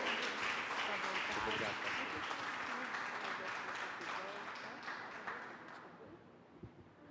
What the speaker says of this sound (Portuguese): Você pode aplaudir mais uma vez o nome do Senhor?